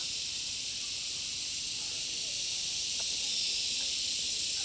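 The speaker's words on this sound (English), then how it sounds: "I imagine you can hear them in the microphone, the crickets or cicadas or whatever they are" Cicadas or crickets in the trees of a shaded gorge, a steady, loud, high-pitched sizzling drone that holds unbroken throughout, with faint ticks and rustles underneath.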